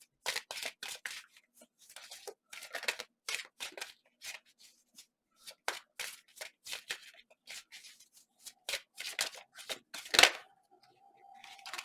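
Tarot cards shuffled by hand in a series of quick, close riffling bursts with short pauses between them.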